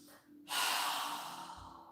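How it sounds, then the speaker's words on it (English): A deep breath drawn in through the nose, then a strong exhale through a wide-open mouth during a home yoga breathing exercise: quiet at first, then a loud, close, airy rush that holds steady and slowly fades. "take 3 deep breaths, inhaling through our nose and exhaling with our mouth open wide with a very strong exhale"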